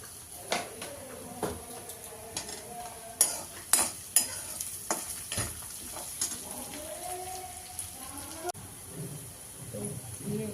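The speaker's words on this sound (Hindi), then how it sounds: "तो ये प्याज डाल दिया" Chopped onions sizzle in a frying pan while a spoon stirs and scrapes at an uneven pace, with sharp clinks of utensil against metal over a steady hiss, close and fairly quiet.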